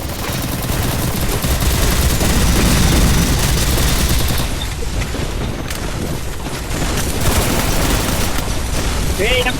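M249 machine gun fire in the battle royale game Free Fire, with loud sustained bursts of rapid automatic shots and booming impacts that run almost without pause. Excited players talk over the gunfire.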